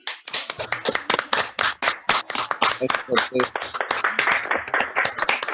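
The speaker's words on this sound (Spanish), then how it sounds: "les quiero pedir que se abren su micrófono para darle un aplauso al compañero" Participants in an online meeting clap through open microphones, a series of sharp, distinct handclaps in an uneven rhythm, close and fairly loud, with some overlapping claps and faint voices mixed in.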